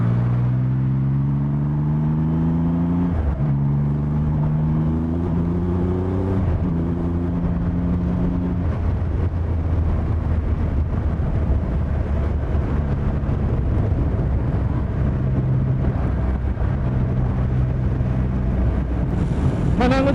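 A 2020 Triumph Rocket 3 R motorcycle ridden in sport mode, its engine droning steadily with rising and falling pitch through gear changes, heavy wind rush over the rider throughout.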